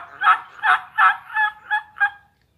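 A person works a turkey mouth call, pushing the tongue lightly to imitate a gobble. Six quick, yelping gobble notes come in a steady run, close and fairly loud, then stop.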